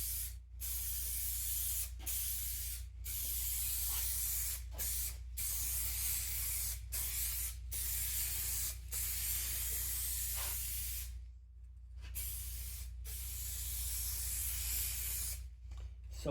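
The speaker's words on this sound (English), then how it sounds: "This stuff sprays nice. Nice and strong." A spray can hisses coating onto the hood of a 2005 Ford Freestyle in long, steady, close bursts separated by brief pauses, with a low hum underneath and no talking.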